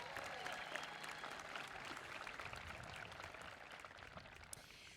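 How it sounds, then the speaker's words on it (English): An audience at a high school graduation ceremony applauds, a steady, faint wash of clapping that continues throughout, with no words heard over it. "so give her a round of applause."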